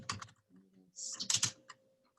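Text being typed on a computer keyboard while making social media graphics: bursts of quick, close key clicks with short pauses between them, heard alone with a faint low hum.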